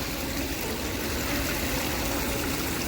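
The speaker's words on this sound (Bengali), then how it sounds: "কত সুন্দর লাগছে জলটা পড়ছে" Water falls steadily in a continuous broadband rush and splash, near and fairly loud, with no pauses and no other sounds over it.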